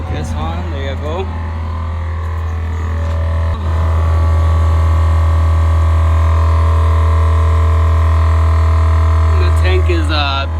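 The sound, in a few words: HornBlasters train horn air compressor filling tank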